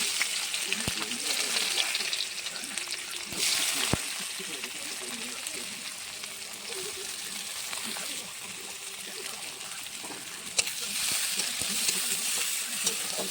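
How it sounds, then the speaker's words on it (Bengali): Sliced onion frying in hot oil in a pan with bay leaf, cumin seeds and dried red chili, a steady close sizzling hiss with a few sharp utensil taps throughout. "তো চলো পেঁয়াজটা ভাজা হয়ে যাক"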